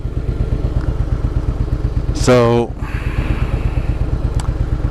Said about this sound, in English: My engine light came on and the bike is running like crap.